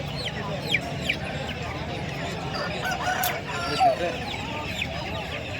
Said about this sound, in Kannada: ಹಾಗೆ ಇನ್ನೊಂದು ಹುಂಜ ಇದೆ ಇಲ್ಲಿ